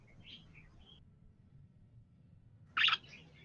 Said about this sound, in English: I heard happy bird noises